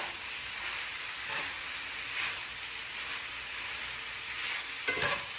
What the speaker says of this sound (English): So I'm going to add the steak back in.